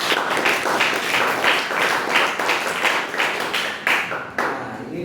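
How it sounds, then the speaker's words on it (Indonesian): Audience clapping after a student presentation, a dense, steady burst of many hands that tapers off toward the end, with little else audible. "kita beri tepuk tangan sekali lagi"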